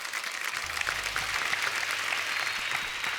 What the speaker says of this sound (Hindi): एक बार हमारे सब स्टार्स के लिए जोरदार तालियां हो जाए